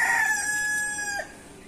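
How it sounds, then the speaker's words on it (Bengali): A rooster crows once, close and clear, in a drawn-out call lasting just over a second before it tails off into quiet background noise. "দেখেন এটা আমার মোরগ"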